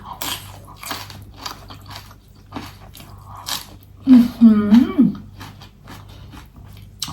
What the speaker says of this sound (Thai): ผักลวกก็กรอบมากเลยค่ะ